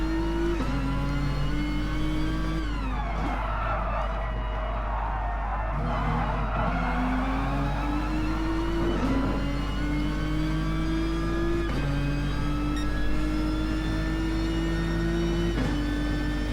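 Touring cars in an online racing game lap the Nurburgring, engines holding a steady high whine that drops and climbs through gear shifts and braking, one car close and loud throughout with no voices.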